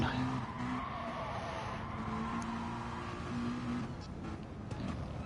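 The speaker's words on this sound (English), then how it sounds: "We've got some practice racing going on." Race cars in a racing video game skid through practice laps, a steady loud engine drone with tyre squeal running throughout, with faint talk underneath.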